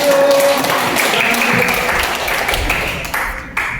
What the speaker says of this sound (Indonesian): Oke, tepuk tangan buat kelompok 7.